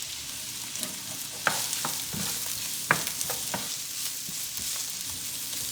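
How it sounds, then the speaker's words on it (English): Onions sizzle in a hot pan alongside cooked steak for fajitas, a steady close frying hiss punctuated by a few sharp pops and the scrape of stirring. "turn my heat down just a little, throw my onions in"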